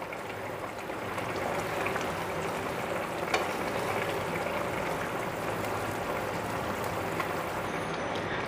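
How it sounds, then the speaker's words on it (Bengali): Chanpona fish fry in a pan with a continuous steady sizzle and soft scraping as they are stirred, with one faint clink partway through. "এইভাবে করে মাছগুলো দিয়ে একটু নাড়াচাড়া দিতে হবে।"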